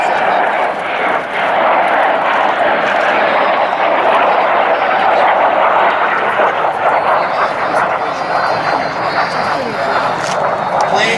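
A Soviet-era military jet flies at an air show, a loud sustained roaring rush of engine noise that holds steady throughout, with an announcer talking over it.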